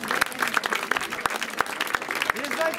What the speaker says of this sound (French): Vous pouvez applaudir les ténors et les ténoristes.